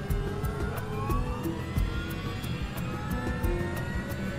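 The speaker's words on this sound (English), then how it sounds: "he records the sound of the engines from inside the cockpit." Aircraft engines starting and throttling up, recorded from inside the cockpit of a plane matching the crash flight's setup; a steady loud engine roar with a low rumble, whining tones and regular clicking ticks.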